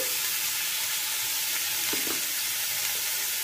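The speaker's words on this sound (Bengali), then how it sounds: "আর এই নাড়াচাড়া করে ভাজতে ভাজতেই এটা কিন্তু লো ফ্লেমে করতে হবে" Spices for arhar dal with cauliflower fry on a low flame while being stirred, a dense, continuous sizzle with a brief scrape of the spoon midway, no talking.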